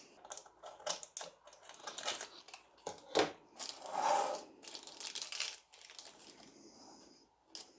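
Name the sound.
cutting and folding cake tin lining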